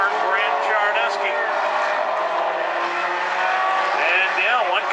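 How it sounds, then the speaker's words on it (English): At South Sound Speedway, a mini stock race car spins out during a heat race, its engine roaring steadily while tires squeal and skid, with a commentator talking over the loud track noise. "And yeah, one car spinning coming off too that time."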